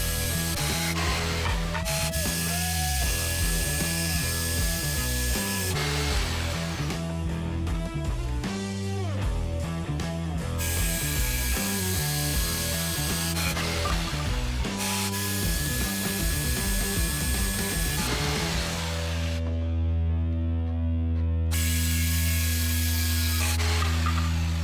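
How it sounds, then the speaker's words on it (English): A jigsaw cuts a straight line along a 1x6 board for a bluebird house, guided by a straight edge; its steady, loud buzzing motor runs continuously for about 25 seconds, the pitch shifting as the blade works through the wood. "I'm just going to use a straight edge and a jigsaw"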